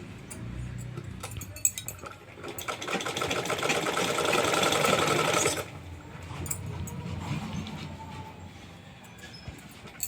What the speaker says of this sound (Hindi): हमको उल्टे की तरफ से इस तरह से थोड़ा थोड़ा मोड़ के इसमें सिलाई लगानी है।